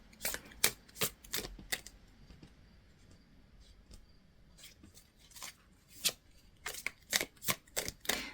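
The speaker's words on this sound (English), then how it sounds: "take some time to ground yourself while I'm shuffling out these cards" Tarot cards shuffled in sharp bursts of riffling, clustered near the start and again toward the end with a quieter stretch between, close and fairly soft, no voices.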